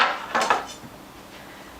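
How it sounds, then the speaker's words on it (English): A knife cuts potatoes for gnocchi on a board, two or three quick, clicky knocks in close succession followed by quieter soft taps, close and clear with no talking. "So I'm just going to cut up my potatoes"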